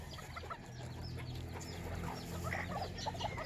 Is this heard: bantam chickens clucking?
yes